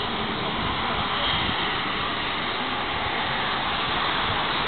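Loud, steady roar of a bmi baby airliner taking off at Belfast, a broad rushing jet noise that holds constant throughout without breaks or voices.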